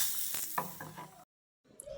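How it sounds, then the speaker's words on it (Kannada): Hot oil tempering poured into raw mango gojju hisses in a short, close sizzle with crackles, cuts to silence for a moment, then resumes faintly. "ಈಗ ಇದನ್ನು ಇದಕ್ಕೆ ಹಾಕೊಳ್ತಿದ್ದೇನೆ."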